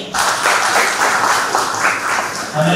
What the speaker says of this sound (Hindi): तो ये बहुत अच्छी बात है, इसके लिए तालियां बजानी चाहिए।